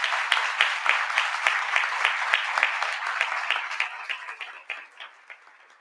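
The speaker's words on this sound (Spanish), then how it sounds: "un fuerte aplauso a Cristian Denis" An audience at a forum on sexual diversity and political participation applauds a speaker, heard as a sustained wash of many hands clapping that gradually thins and fades.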